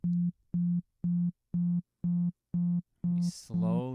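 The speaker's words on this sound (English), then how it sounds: "a tube amplifier, where it doesn't immediately snap into distortion. It has a gradual approach to distortion." A guitar plays through a tube amplifier as the same low note is struck seven times in an even rhythm, each hit growing brighter and grittier as distortion builds; a voice breaks in at the end.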